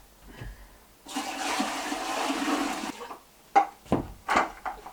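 A broadband rush of running water pours steadily into a pot for about two seconds, then stops, followed by a few sharp knocks and clatters nearby.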